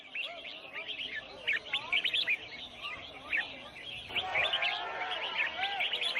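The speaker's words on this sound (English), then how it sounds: "people have gathered to sell exotic birds, illegally captured in the rainforest, sold for the highest bid, and here participating in a bird singing competition." Exotic, wild-caught rainforest birds chirp and trill in dense, overlapping song at an Asian market bird-singing competition, with many high calls close by and faint crowd noise underneath.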